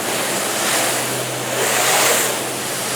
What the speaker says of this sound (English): But if I spray water on this hood,